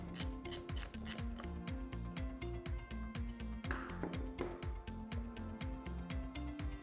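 Battery terminal connections are loosened while a light bar relay harness is wired in. A rapid, regular ratcheting clicks on steadily up close, like a ratchet wrench turning, with no voices.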